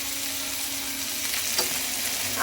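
Spices, ginger and chili powder sizzling in an oiled pan while cooking chicken tadka, a steady bright crackling hiss with a brief stirring scrape, with no talking.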